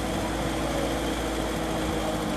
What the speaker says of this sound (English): Next we have a 1943 Farmall H tractor driven and owned by Dustin Bain